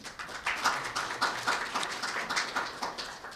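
Audience applause at a university campus town conference opening ceremony in Seongbuk, steady moderate clapping from a crowd, somewhat distant and even throughout.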